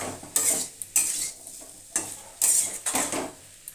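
Cauliflower curry sizzles in a pan while a spoon stirs and scrapes in several quick bursts, with short pauses between strokes.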